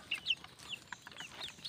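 Young chicks cheep and peep at feeding time on a farm, several short high chirps scattered over soft pecking and low clucks, fairly quiet and close.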